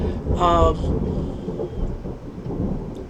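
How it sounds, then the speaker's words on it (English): Rain falls steadily while thunder rolls in a low, continuous rumble, with a brief brighter burst near the start. "yeah, it's raining. As you can hear."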